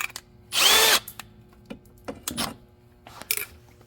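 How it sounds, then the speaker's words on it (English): A power drill spins through a door rivet on a Can-Am X3, one short loud whine followed by scattered clicks and light metallic handling sounds. "We're gonna drill the rivet."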